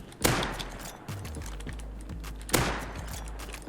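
Gunfire in the game Rust: two sharp loud shots about two seconds apart, with quieter clicking and tapping between them.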